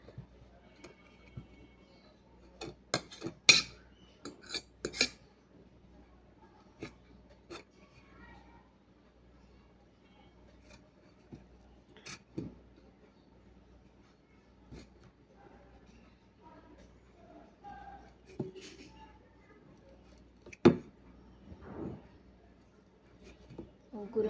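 A fork crushes bird food for feeding a baby bird, heard as quiet, sparse taps and scrapes at irregular intervals with faint background hum.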